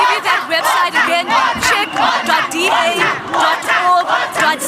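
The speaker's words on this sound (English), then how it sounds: "As you can see, the crowd is very frustrated." A frustrated, angry crowd shouts and chants at a protest over the Gauteng water crisis, loud and close, with rhythmic waves of massed voices rising and falling throughout.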